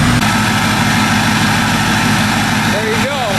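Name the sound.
2005 Ford F250 6.0 Powerstroke diesel engine idling after cold start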